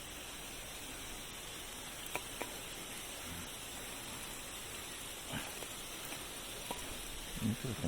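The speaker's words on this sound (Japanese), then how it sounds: "雨が落ちてるね" Light rain falls during an eel-fishing outing, a soft steady hiss of drops with a few sharper taps and knocks scattered through and a faint rustle near the end.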